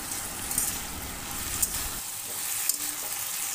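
Malabar spinach leaves with salt and turmeric sizzle and crackle steadily in a hot pan, a soft continuous frying hiss with occasional scraping stirs, close and moderately quiet.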